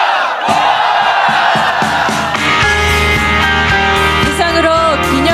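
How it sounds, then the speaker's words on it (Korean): Loud crowd cheering and shouting at a police officers' appointment ceremony as the new officers throw their caps, a dense roar of voices swelling throughout. "신임 경찰들이 모자를 던질 때 힘찬 박수로 축하해 주시기 바랍니다"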